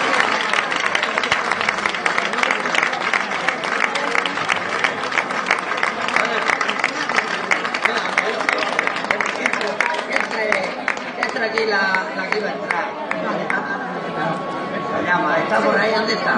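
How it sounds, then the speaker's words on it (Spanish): A crowd at a street protest against rail walls in Murcia applauds continuously, loud dense clapping mixed with chatter and crowd noise throughout. "Yo pienso que Juan se merece un gran aplauso por parte de todos nosotros."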